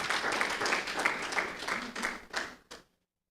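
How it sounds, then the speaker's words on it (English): An audience at a Niger Delta business summit claps in a short round of applause that thins out and stops abruptly, with a few scattered final claps before silence. "So please give yourselves a round of applause one more time."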